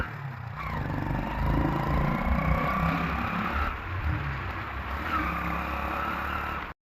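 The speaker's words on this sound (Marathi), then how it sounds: "गाडी चालू झाली आमची" A vehicle engine runs and revs nearby, rising and falling in a few surges before cutting off abruptly at the end.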